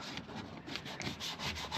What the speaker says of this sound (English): I'm sanding this toilet roll holder.